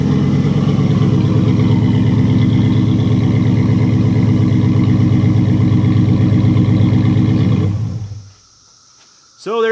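The engine of a 2019 Ram truck, running with no rear exhaust pipes, holds a loud, steady, growling rev for about eight seconds and then cuts off sharply, leaving near silence.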